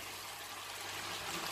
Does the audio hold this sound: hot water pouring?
yes